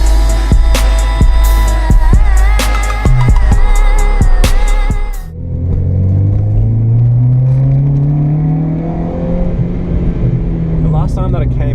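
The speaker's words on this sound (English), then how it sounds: "Today we're going to be test driving the Civic." An EK-generation Honda Civic on a test drive, its engine droning steadily with pitch rising and falling as it accelerates, while someone talks loudly over the cabin rumble throughout.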